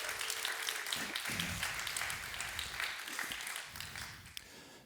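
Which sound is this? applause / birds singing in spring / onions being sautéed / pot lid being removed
applause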